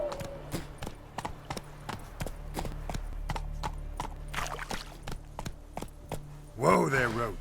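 Horse Roach's hooves in The Witcher 3 clip-clop in a steady, evenly spaced rhythm at close range over low ambient noise, and a brief louder burst near the end sounds like a snort or whinny.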